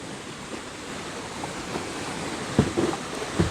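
Water rushing steadily at the base of Gokak Falls, a broad continuous wash with a few louder splashes near the end, fairly close and with no voices.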